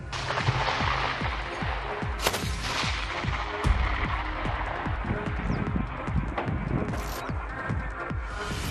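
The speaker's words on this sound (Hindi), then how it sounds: "ZU-23 mm anti aircraft gun system 360 degree पर घूमकर हमला करने में सक्षम है। 1 मिनट में 2000 गोलियां दागता है।" A ZU-23 twin-barrel 23 mm anti-aircraft autocannon fires in rapid sustained bursts, a dense string of sharp close reports running through the whole stretch with echoing booms.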